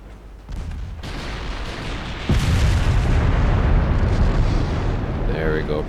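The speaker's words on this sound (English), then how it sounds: "There we go, pretty big volley." A heavy naval main-gun volley in the warship game Ultimate Admiral Dreadnoughts, a loud booming salvo followed by sustained rumbling blasts that keep rolling and overlapping, with a voice speaking over the din.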